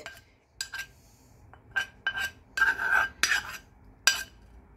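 A spoon stirring tempering into coconut yogurt chutney, with bursts of metallic clinks and scraping against the bowl in irregular clusters, close and clear with no talking.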